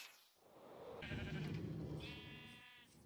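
Sheep bleating on a sheep farm in a video game, two or three distinct wavering bleats in succession, fairly quiet and clear with no talk over them.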